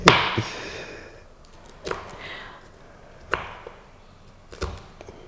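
Okra being chopped on a board in a kitchen, a few sharp separate knife strikes spread out over several seconds, moderately close, with quiet room noise between them.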